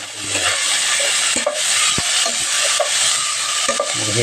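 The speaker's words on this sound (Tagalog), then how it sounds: "Ngayon, haluin natin yan." Papaya and flaked fish are stirred in a pan, a spatula scraping and clacking in irregular strokes over a continuous frying sizzle, close and fairly loud.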